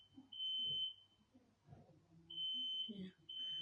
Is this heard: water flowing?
no